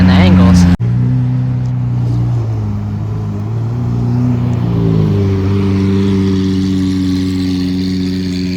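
A Lamborghini Aventador SV V12 with an aftermarket exhaust rumbles loudly and close by, holding a deep steady idle before its pitch rises and falls in a rev, with faint crowd noise of an outdoor car meet behind.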